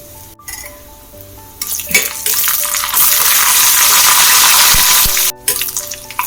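Mustard seeds, curry leaves and three dried red chillies crackle and sizzle in hot oil, a loud dense spitting that swells after a quiet start with small clinks, then cuts off abruptly near the end.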